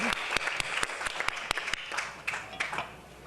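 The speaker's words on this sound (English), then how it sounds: "Let's give Mark Brown a big round of applause." Applause from an audience, a dense wash of clapping with some sharper individual claps standing out, moderately loud and steady.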